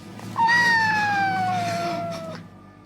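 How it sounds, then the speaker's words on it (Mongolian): A cat from the Japanese horror film Ju-On lets out a single long, drawn-out meow that slowly falls in pitch, loud and close, fading into quiet at the end. "өнөө алдарт муурын дуу гарснаар кино маань дуусна"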